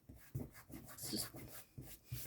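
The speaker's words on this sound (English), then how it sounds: "try and rub that tape off" Old tape is rubbed off a recycled Christmas card in short, quiet strokes, a soft dry scuffing repeated about half a dozen times in an uneven rhythm, very faint and close, with no talking.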